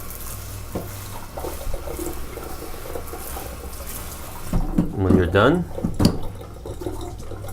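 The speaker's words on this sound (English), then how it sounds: "The core is also easy to clean with running tap water." Fan coil ERV core rinsed under running tap water: steady splashing flow throughout, turning to louder, gurgling water around the midpoint, with a person speaking over it.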